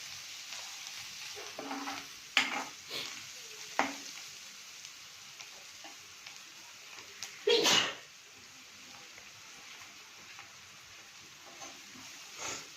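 A spoon stirs and mixes potato bonda filling with turmeric in a bowl, giving a few short scraping and squelching bursts spread over quiet gaps, close and fairly soft.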